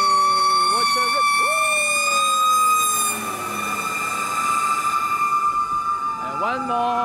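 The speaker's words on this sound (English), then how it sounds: "you can see a fire engine screaming its way" A fire engine siren wails loudly through the streets of Washington, D.C., its rising and falling tone sweeping past with horn blasts, engine rumble and city noise beneath.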